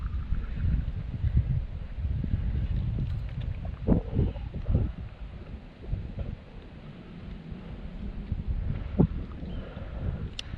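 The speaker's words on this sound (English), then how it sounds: "we definitely have some wind here" Wind gusts buffet the microphone on a boat during October largemouth bass fishing, a rumbling, uneven low roar with a few knocks and thumps on the hull, no voices.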